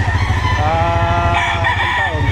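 A rooster crows at a chicken seller's stall in Batangas, one long drawn-out call over steady background noise.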